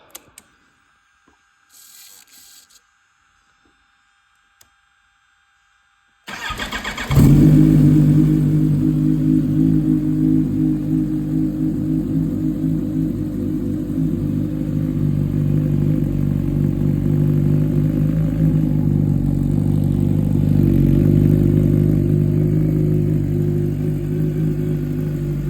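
A Kawasaki Ninja H2 motorcycle cold-starts after a few quiet clicks, catching with a loud burst and then settling into a steady, loud, slightly lumpy idle that holds without revving.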